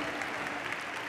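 Steady, dense applause from an audience at a university graduation ceremony, a continuous wash of clapping with no pauses or voices standing out.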